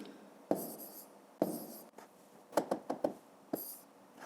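A pen or pencil writes numbers on paper for a fifth-grade math exercise, with short scratchy strokes and taps in irregular bursts, close and quiet, with no talking.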